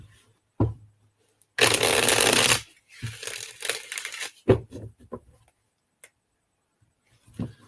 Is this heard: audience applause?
no